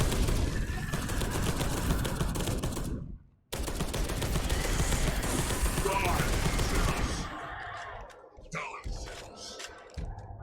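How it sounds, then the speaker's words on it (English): Rapid bursts of explosions and gunfire in the video game Space Hulk: Deathwing, dense and loud for several seconds with a brief gap, then thinning into scattered hits as a voice talks over the action. "I'm not sure what keeps exploding, but it seems to be exploding on the enemies."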